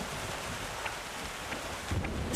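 Steady, dense rainfall with wind in an animated Vikings cartoon forms a continuous roar, with faint low rumbles of thunder underneath and no speech.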